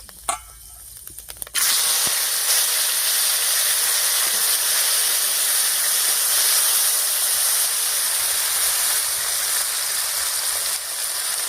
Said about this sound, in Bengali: এবার এর মধ্যে দেবো কেটে রাখা টমেটো কুচি